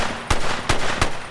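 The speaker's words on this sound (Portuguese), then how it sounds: "Há um estrondo de luz e depois tiro atrás de tiro atrás de tiro." Gunfire during a police raid on a building entrance, heard as three sharp, loud shots spaced a few tenths of a second apart against a steady background rumble.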